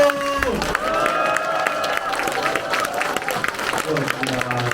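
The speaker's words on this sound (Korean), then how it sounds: "다시 한번 뜨거운 박수와 함성!" A crowd at a community town hall meeting between a city mayor and district residents applauds and cheers, with clapping mixed with raised voices and shouts throughout.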